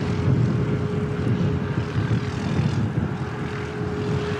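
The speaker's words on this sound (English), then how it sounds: "Well, that's come across quickly. Emirates 412 on long final." An Emirates airliner on long final approach, its engines a steady broad roar with a faint sustained tone, heard continuously at a distance with no talking.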